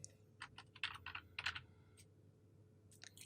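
Several bursts of quick keystrokes on a computer keyboard while entering a change into a spreadsheet cell, clicking close and distinct with short pauses between clusters and a faint steady hum behind.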